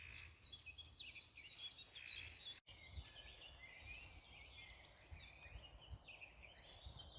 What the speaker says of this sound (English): Just listen to that bird song.